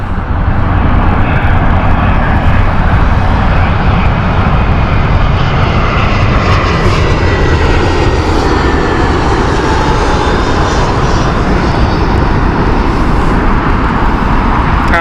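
Airliner on the Belfast flight at Heathrow Airport, a loud, continuous engine roar holding steady throughout with no voices over it.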